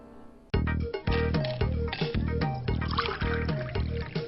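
Glen Hunter Scotch whiskey poured over ice, starting abruptly with a rhythmic series of glugs and liquid splashes, close and clear, continuing steadily to the end.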